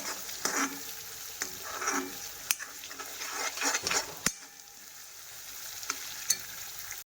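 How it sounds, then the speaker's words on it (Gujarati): Tomato and spice tempering with curry leaves sizzles steadily in a pan for a Gujarati pigeon pea curry, with a few sharp stirring clinks and scrapes breaking through the close, continuous frying hiss. "મસ્ત મજાનો વઘાર થઈ ગયો છે આપણો"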